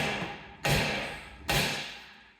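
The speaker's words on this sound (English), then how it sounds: "And now a polite tap with a hammer" Two sharp hammer taps, about a second apart, on the front wheel bearing assembly of an Alfa Romeo 159/Brera. Each strike is close and crisp and rings down briefly, with quiet between the blows.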